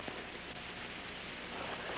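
Rain falls steadily in a 1950s drama setting, a dense, even hiss with no breaks and no voices.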